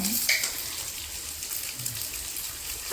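Dried red chillies fry in hot oil as the base for a Kerala-style fish curry, with a steady close sizzle and crackle and a few louder pops, with no talk over it.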